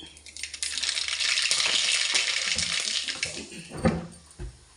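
Mustard seeds crackle and splutter in a hot pressure cooker, a dense sizzling hiss that stays steady and loud throughout, with a few sharper pops near the end.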